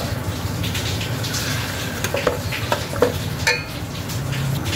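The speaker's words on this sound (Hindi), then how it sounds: "और अब इसमें मैंने देखे राइस ऐड कर दिए हैं।" Rice poured into water in a cooking pot while making beef white pulao, giving a broad watery rush with a few soft clinks and splashes, steady and close, with no talking.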